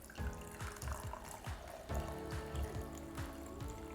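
Fresh beetroot, carrot and ginger juice pours from a Greenstar juicer into a glass, a near liquid stream mixed with a repeating series of low knocks and clunks.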